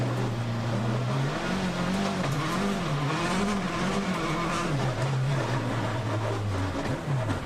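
A Citroën C4 WRC rally car on gravel stages in Sardinia, engine note wavering and rising as it struggles with steering problems, loud and continuous with tyre scrabble.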